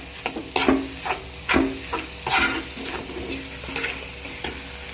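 A spatula stirs a bread toast mixture seasoned with salt and black pepper in a pan, producing repeated close scraping strokes over a soft frying sizzle.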